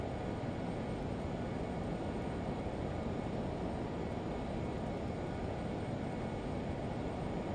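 Learjet 35 jet engines in a flight simulator game roar as a steady, loud broadband drone throughout. The whine never changes and no one speaks over it.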